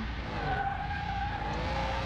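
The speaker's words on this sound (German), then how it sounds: "Ihr werdet sehen, wenn ihr jetzt überhaupt die Motorengeräusche hört, weil ich jetzt soweit den Ton runtergedreht habe." A Jaguar E-Type engine in Car Mechanic Simulator 2021 drones steadily on a race track at turned-down volume, a continuous hum with faint tire noise and no talk.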